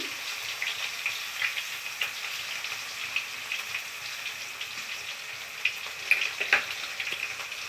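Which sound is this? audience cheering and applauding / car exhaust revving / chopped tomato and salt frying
chopped tomato and salt frying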